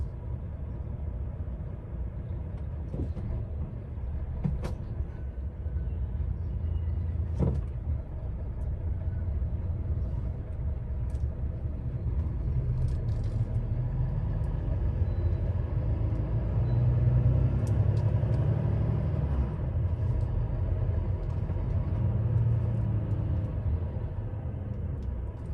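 Vehicles at a truck stop make a steady low rumble that rises and falls slightly, distant and continuous, with occasional faint clicks and no voices.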